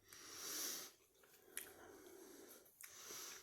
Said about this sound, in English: Chewing sounds.